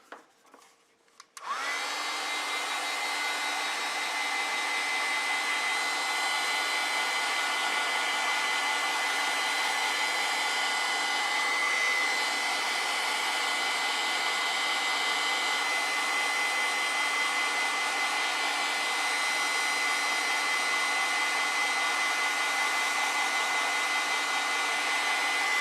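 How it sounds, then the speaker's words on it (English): A hair dryer runs steadily for nearly the whole stretch to dry a watercolor and ink wash painting of a lavender field, starting after a brief pause with a loud, constant whirring blow that holds without any talk. "So I'm going to take my dryer and"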